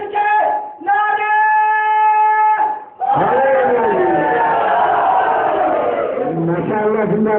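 A crowd at a Muharram majlis chants slogans in unison, voices swelling loud after a sustained call, then echoing back together in strong, near, rhythmic bursts.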